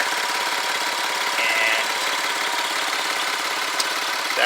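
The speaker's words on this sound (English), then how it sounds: "just a quick listen to the motor here. One concern, it sounds to me like there's an exhaust leak in here," A car engine idles steadily up close, a continuous broadband rumble with a hissy, ticking texture suggesting an exhaust leak, holding constant throughout with no talk over it.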